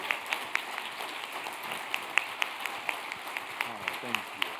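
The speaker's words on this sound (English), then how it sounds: "First, a huge round of applause." An audience at a talk about patients and medical cures gives a round of applause, its scattered, fairly faint claps mixed with voices speaking over them.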